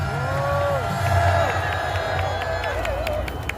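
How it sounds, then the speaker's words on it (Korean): Audience at a political rally breaks into sustained applause and cheering, a broad crowd roar with clapping mixed with voices, loud and continuous. "여러분 그렇게 하신다고 생각하시면 큰 박수 한번 해주시기 바랍니다"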